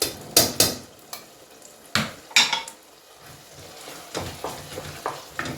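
Tomato paste frying with green fava beans in a pan, a spoon scraping and clinking against the metal in irregular strokes over a soft background sizzle, close and moderately loud.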